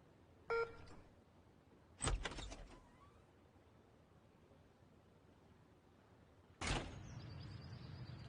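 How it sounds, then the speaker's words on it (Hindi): Three short, sharp clicks and clunks from a door being opened, spaced seconds apart over a quiet low hiss, with the last one trailing into a faint steady hum. "क्या आप दरवाजा खोल सकते हैं?"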